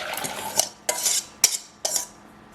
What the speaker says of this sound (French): avec mon fouet jusqu'à ce que ça épaississe.